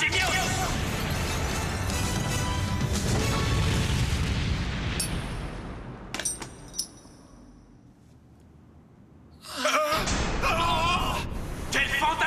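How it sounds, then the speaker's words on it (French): A spectacular explosion from Sagittario's special move in a Beyblade cartoon battle against Genius, a loud roaring blast that fades out, followed by sharp clinks and a second surge of crashing noise, with voices mixed in. "Le mouvement spécial de Sagittario libère une explosion spectaculaire face à Genius"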